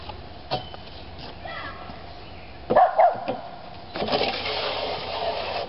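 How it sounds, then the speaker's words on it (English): A neighbor's dog gives a couple of short barks at a distance outdoors, faint against background noise, with people talking nearby. "here comes the neighbor's dog."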